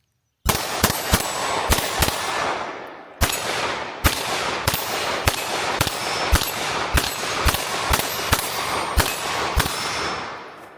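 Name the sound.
shooting an S&W 22 Magnum firearm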